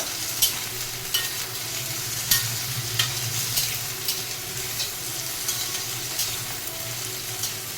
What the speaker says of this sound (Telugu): జీలకర్ర, దొండకాయ ముక్కలు కొంచెం వేయించుకోవాలి